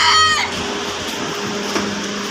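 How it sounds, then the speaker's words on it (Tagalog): A chicken gives a short, loud vocal call at the start, followed by quieter background noise. "Manok."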